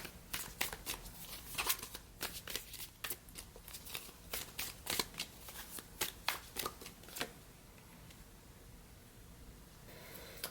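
Tarot cards shuffled close up in a rapid irregular series of crisp riffles and slaps, quiet overall, easing off near the end.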